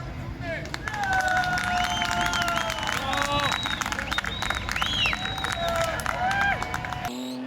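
Crowd applause and cheering at a car race, a steady dense patter of clapping with whistles and shouts throughout, heard under a commentator's voice that talks over it.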